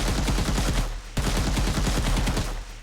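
Rapid automatic fire from a hitscan assault rifle in an Unreal Engine 4 multiplayer third-person shooter, two loud, sustained bursts of evenly spaced shots separated by a brief pause.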